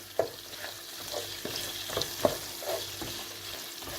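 A spoon works pepper paste into bulgur in a pan, giving soft scraping strokes and a few sharper knocks against the pan over a faint, steady sizzle.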